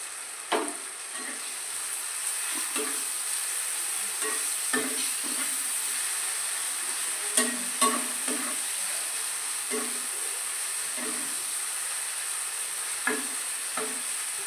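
Spices and boiled potatoes sautéing in a pan with garam masala, a steady frying hiss broken by a series of spoon scrapes and knocks against the pan, close and alone.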